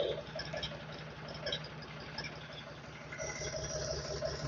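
A Force OX 25 orchard mini tractor's engine runs steadily nearby, a continuous mid-pitched diesel drone with a faint rhythmic chug and slight vibration, unchanging in level throughout.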